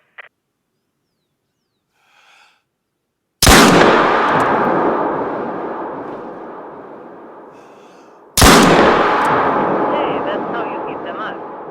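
Two loud gunshots fired at a shooting range target in a video game, each a sharp crack followed by a long decaying echo, spaced about five seconds apart, with faint brief sounds before the first.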